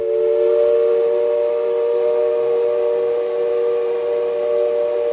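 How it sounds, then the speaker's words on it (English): A steam train whistle blows one long, sustained chord, loud and steady without a break, with no other sounds competing. "I love the sound of that whistle."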